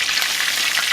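Mojarra fish fries in hot oil for Mexican crispy fried fish, a steady bright sizzle and crackle heard close and alone.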